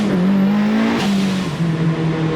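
An LS3-swapped Pontiac Solstice pulls hard on the street, its V8 droning loud and close as the revs climb, dip at a shift and climb again in a short burst.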